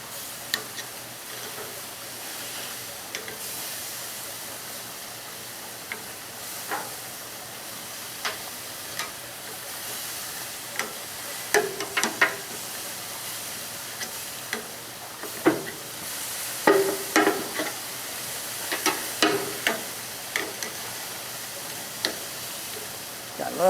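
Marinated skirt steak sizzles on a grill, a continuous hiss with scattered pops and crackles that pick up partway through, under light background noise with no clear talking.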